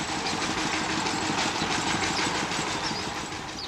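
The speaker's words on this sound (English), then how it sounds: "toward a courtyard where a large farm machine was idling" Large farm machine idling in a stone courtyard in Nepal, a steady low diesel chug with rapid knocking pulses, continuous and fairly close, fading slightly at the end.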